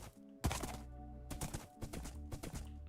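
Horse in the Minecraft video game, struck repeatedly, giving short thudding hits and brief blocky animal noises in an irregular rhythm, close and fairly loud with no talking.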